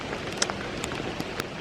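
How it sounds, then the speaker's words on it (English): Steady rain pattering on surfaces outdoors near a parked Tesla on a road trip, a soft continuous hiss with scattered drip ticks, no voices. "yeah, it's raining"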